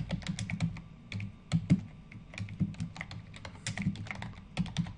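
Rapid typing on a computer keyboard, close and moderately loud, with irregular bursts of clicking keystrokes and short pauses.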